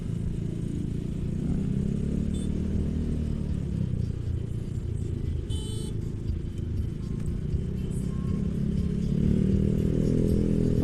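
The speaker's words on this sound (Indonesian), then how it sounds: "Ini bundaran tiap hari macet terus ya." Traffic at a congested roundabout, with a steady low rumble of cars and motorcycles close by, idling and creeping along, plus occasional faint clatter, heard from a motorcycle with no talk.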